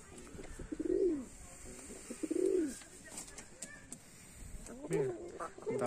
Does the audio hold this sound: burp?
no